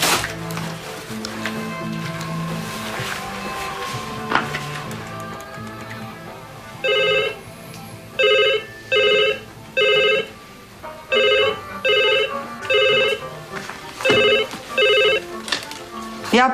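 An old-fashioned telephone bell rings in a Slovenian radio drama, sounding in regular repeated bursts with short pauses between them, following a stretch of background sound and voices.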